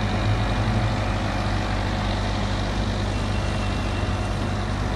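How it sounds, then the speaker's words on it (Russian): Chinese passenger buses and street traffic in Chongqing, a steady low engine drone and rumble that stays constant and fairly loud throughout, with no talking. "А это типичные китайские пассажирские автобусы."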